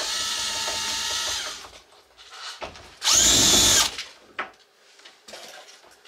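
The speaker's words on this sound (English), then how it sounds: "She only ever picks up the drill when she has to unscrew things." A power drill whines up close at home in two bursts, a long run followed by a short loud one, with quieter handling clatter between them.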